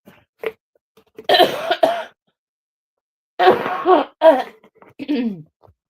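A person coughs in two harsh bursts with throaty grunts, close and loud, separated by a short pause.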